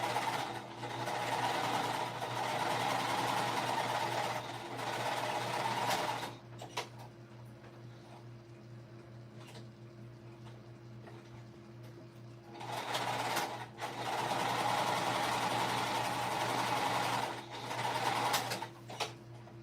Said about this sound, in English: I'm literally just running a top stitching line down each side.